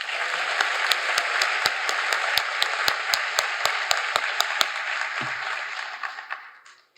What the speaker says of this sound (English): Let's applaud the hard work of these students.